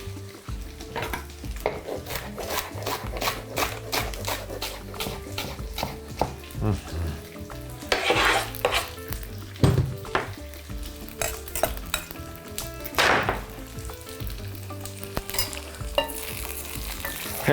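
Eggplant fries in oil in a pan, sizzling continuously while a spoon or spatula stirs it in repeated scraping, clinking strokes, close and fairly loud throughout with no voices.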